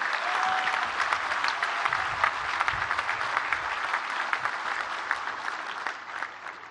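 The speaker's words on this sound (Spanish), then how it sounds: "doble aplauso para nuestro presidente" Sustained applause from a crowd at a public event in Guadalupe, Nuevo León, many hands clapping steadily and gradually thinning out toward the end.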